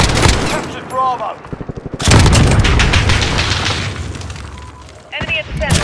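Gunfire from a Modern Warfare Domination match, loud bursts and rapid rattling shots filling most of the clip, with a brief gap of quieter game sound and voices around it.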